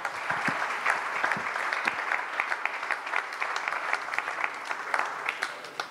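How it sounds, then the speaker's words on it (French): An audience at a round-table conference on mental health claps steadily throughout, a dense, even wash of applause from a room full of people with no talking. "bravo à toi Lionel, je pense qu'on peut l'applaudir."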